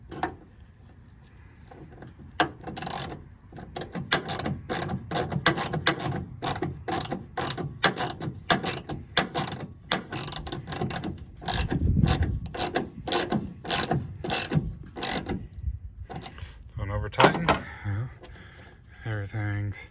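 Bolts being tightened on the tail light of a 2016 Ford F-150, with a close, rapid series of ratchet clicks. The bursts come in quick runs, with brief rubbing and scraping in between.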